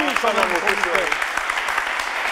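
A live television audience claps and cheers at a talent show, a dense continuous burst of applause with a voice speaking over it.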